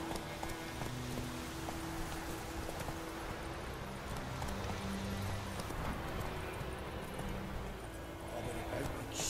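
The horse Roach gallops steadily in the video game The Witcher 3, her hooves clip-clopping continuously in an even rhythm over a dense game soundscape.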